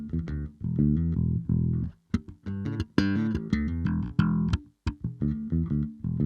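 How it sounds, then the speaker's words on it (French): Soloed bass line in a Logic Pro X mix, loud and upfront: a run of plucked, sustained low notes in a steady groove with brief gaps between phrases, playing alone without other instruments. "Alors je vais l'écouter la basse toute seule."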